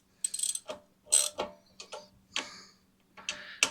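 A ratchet wrench worked in short back-and-forth strokes on an old log splitter, giving quick bursts of clicking pawl ticks with brief pauses between, close and fairly quiet.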